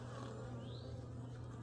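Honey bees in an opened backyard hive produce a steady, close insect drone with a low hum running continuously under faint background noise, no talking.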